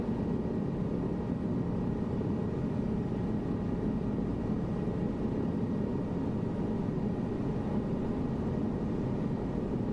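Steady, unbroken engine drone from a helicopter in Microsoft Flight Simulator 2024, a dense low rumble with constant loudness and no talking throughout.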